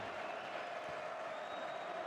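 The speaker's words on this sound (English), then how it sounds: "And this crowd is getting into it." A basketball arena crowd roars steadily after a game-tying corner three-pointer in a Mississippi State versus North Alabama men's game, a faint, distant, continuous cheer and applause with no clear peaks.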